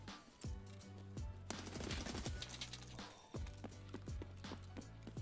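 Rapid bursts of automatic gunfire ring out in a first-person shooter game, Escape from Tarkov, with a few sustained sprays separated by short pauses and sharp repeated shots, fairly quiet overall.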